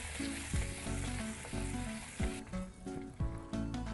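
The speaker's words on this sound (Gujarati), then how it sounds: "સરસ રીતે મિક્સ કરી લઈએ." Boiled whole dal stirred into a hot pan of sautéed tempering for drumstick dal gives a steady, close sizzle, with the scrape and clack of the spoon repeating through the stir.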